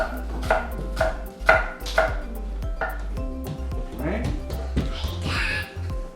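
A knife cuts through an onion on a board, working around it with its root end still attached. The blade lands in a quick, regular series of close, crisp chops while voices talk over it.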